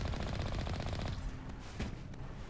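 Rapid automatic gunfire in the video game Mass Effect 1 Legendary Edition, a dense loud burst for about a second followed by scattered single shots and lingering battle noise.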